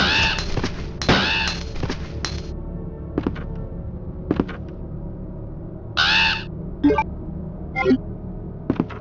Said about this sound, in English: I hate the crows in this part.